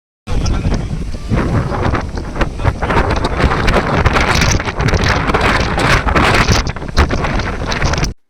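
Strong wind buffets the microphone at a hilltop fort after a trek, a loud, continuous roaring rush with gusting swells that fills the whole stretch without pause.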